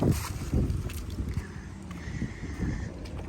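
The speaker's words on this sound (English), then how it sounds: "we have the wind blowing" Gusty wind rumbles and buffets outdoors in uneven surges, with low blustery noise throughout and no voices.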